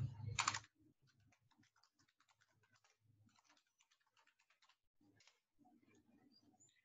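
Computer keyboard typing while entering a query into a developer console: a brief louder knock at the start, then quiet, rapid irregular key clicks in bursts with short pauses, close and faint, no talking.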